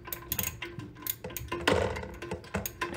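A wrench loosening the nuts on the tank bolts of a running toilet, giving a close series of metallic clicks and ratcheting scrapes in an irregular rhythm.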